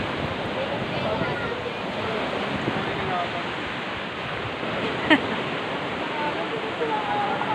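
Ocean waves at Apad Beach wash in a steady, full roar of surf, with wind buffeting the microphone throughout.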